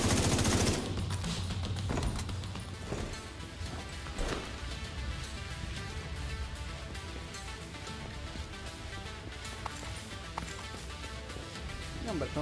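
Rapid gunfire from the video game The Division 2, dense automatic bursts under continuous talking, with a few sharper shots standing out near the end.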